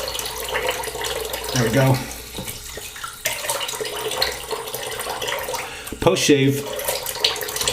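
Tap water runs steadily over a face or hands to rinse off Le Père Lucien "Traditionnel" shave soap after a safety-razor shave. The water is close and continuous, and someone talks briefly over it.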